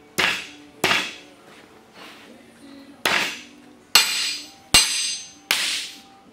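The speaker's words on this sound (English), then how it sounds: "So we'll skip the board and the file and just use the hammer here." Seven sharp, loud hammer strikes on an e-match ring out at irregular intervals, each a crisp metallic crack that decays quickly.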